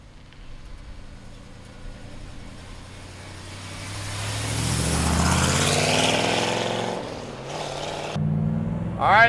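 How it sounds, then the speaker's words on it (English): A 1968 Chevrolet Chevelle with a numbers-matching big block and 4-speed drives by, its engine note swelling louder as it nears, then easing off before revving again at the end. "let's take this 68 Chevelle for a ride"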